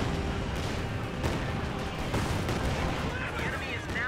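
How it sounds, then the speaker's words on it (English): Rocket barrage in the Company of Heroes 2 strategy game, a dense rolling series of booming impacts and rumbling blasts layered over continuous battle noise, loud and sustained throughout. "Now here comes another collector rocket barrage"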